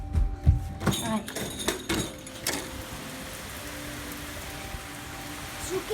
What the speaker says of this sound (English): As you can tell, it's pouring